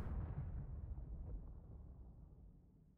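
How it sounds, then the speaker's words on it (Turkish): A rocket booster fires on a car launched skyward in PUBG, a deep rumbling roar that starts loud and gradually fades and thins over three seconds as it recedes. "Üçüncü roket açıldı."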